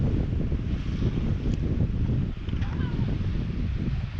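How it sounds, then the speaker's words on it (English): Strong wind gust at Changi Beach, Singapore, during a wingfoil race: loud, dense wind roar buffeting the microphone continuously, with water and board noise mixed in. "there's now this really strong gust just blowing through"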